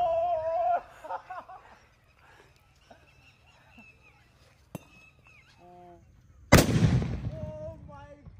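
A firecracker bomb goes off beneath an overturned steel pot outdoors, one sharp, loud blast followed by a ringing, decaying clatter, after quieter moments with faint voices.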